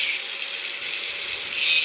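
A power saw blade cuts through a steel threaded rod, a steady high-pitched metallic grinding whine that sounds close and continuous with no voices.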